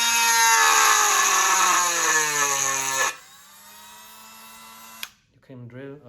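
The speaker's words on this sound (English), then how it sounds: "you can drill a hole very easily" A power drill bores a hole through ceramic, giving a loud, steady whining grind for about three seconds, then a quieter lingering tone before stopping, with a brief voice near the end.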